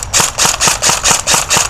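A muzzle flash generator gun firing full auto in a night test, sounding as a loud, rapid, evenly spaced burst of about eight sharp cracks in under two seconds, close and alone.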